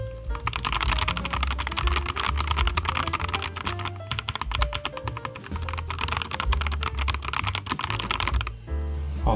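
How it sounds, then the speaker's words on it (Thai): Rapid, continuous keystrokes on a LOGA x DURGOD Mango Sticky Rice mechanical keyboard, loud and close, with dense clacking bursts and a brief lull near the end. "เดี๋ยวเราไปฟังเสียงสวิตช์กันนะครับ"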